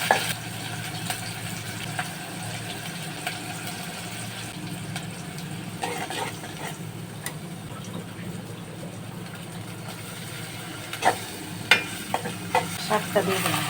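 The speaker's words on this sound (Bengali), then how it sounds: "পেঁয়াজ বাটা দিলাম।" Onion paste sizzles and fries in hot oil in a home kitchen, a steady close crackle with occasional stirring scrapes and clicks, busier toward the end.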